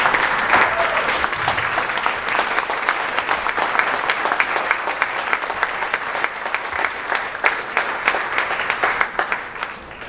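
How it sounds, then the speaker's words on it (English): Audience at a Brookline state representative candidate forum applauds a retiring state representative, a steady, sustained round of clapping that fills the room for about ten seconds. "maybe we can give him a round of applause"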